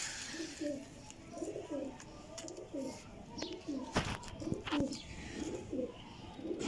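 Fancy breeder pigeons, Frizpori and Taddy types, coo in soft, repeated rolling phrases about twice a second, close but quiet, with a few sharp knocks and rustles of handling between them.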